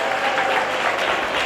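A church congregation applauds during a pastor's sermon, a dense, loud, continuous clapping from many hands filling the room without a break.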